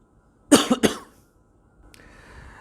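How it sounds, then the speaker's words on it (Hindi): A man coughing twice in quick succession, sharp and close, followed by quiet and a faint thin tone. "मुझे खांसी आ रही थी"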